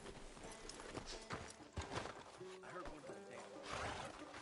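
Arthur's horse in a video game, hooves clip-clopping at a steady walking rhythm, faint and mixed with background game sounds and quiet voices.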